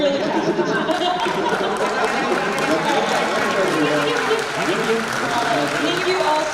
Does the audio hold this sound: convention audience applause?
yes